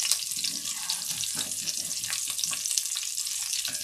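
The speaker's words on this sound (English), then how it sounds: "you can really hear all of those spices starting to pop" Spices and onion frying in a pan for a lotus root stir-fry, giving a steady, close, crackling sizzle with quick pops scattered throughout and no talking.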